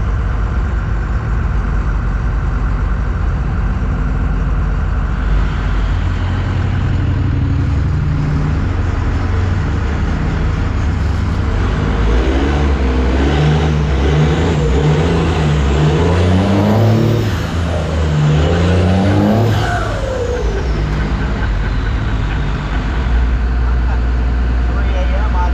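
Off-road trucks drive up a hill at an off-road wrecker event, producing a continuous heavy engine rumble with revving swells and a couple of high whining squeals near the end, with no talk over it.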